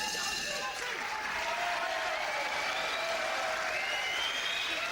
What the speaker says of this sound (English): crowd are very excited and obviously with Ellis's comeback there